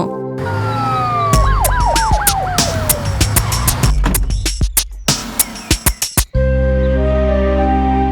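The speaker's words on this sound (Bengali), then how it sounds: "আমি একটা অ্যাম্বুলেন্স ডাকছি ওকে হসপিটালে নিয়ে যাওয়ার জন্য" A cartoon ambulance siren wails in rising and falling sweeps, joined by a string of sharp clicks and knocks before cutting off abruptly into a low steady drone.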